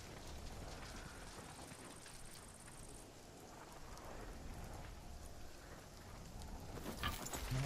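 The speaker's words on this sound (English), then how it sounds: "I don't remember it constantly raining here either." Constant rain in RuneScape: Dragonwilds, a soft, steady rushing patter heard faintly in the background, with a sharper burst near the end.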